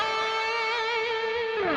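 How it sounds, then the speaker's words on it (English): Electric guitar through a Marshall Super Lead 1975 amp emulation holds a single distorted, focused note with vibrato for under two seconds before bending down at the end, loud and close with no voices. "I think it was a Marshall Super Lead 1975 emulation. That sounds like this."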